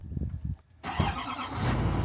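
Engine of a crash-damaged, totaled Chevrolet Duramax ZR2 truck cranking and catching after a brief pause, then settling into a loud, steady running rumble at close range.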